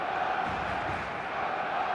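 A stadium crowd roars steadily in the eFootball 2026 football video game, a dense, continuous wall of cheering and chanting at a constant loud level across the whole stretch, with no clear commentary over it.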